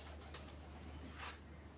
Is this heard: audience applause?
no